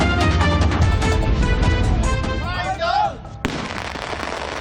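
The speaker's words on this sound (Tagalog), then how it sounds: "Ganito kalakas ang ilan sa mga nakumpiskang iligal na paputok ng mga pulis sa Calabarzon." Confiscated illegal firecrackers seized by police in Calabarzon, Philippines, going off in a dense, continuous crackle of loud bursts and pops that briefly dips, then resumes abruptly.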